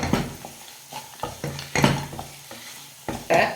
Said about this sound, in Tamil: இதில் நம்ம வறுத்து வச்சுருக்கிற முந்திரி நட்ஸை சேர்த்துக்கலாம். சேர்த்துட்டு கிளறிக்கலாம்.